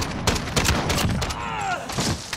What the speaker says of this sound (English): You really want to see how fast I can shoot?